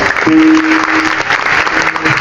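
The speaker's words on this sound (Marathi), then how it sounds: "जोरदार टाळ्या वाजवायच्या." A packed kirtan audience claps loudly together, a dense continuous wash of applause with a sustained tone ringing through it, no talking.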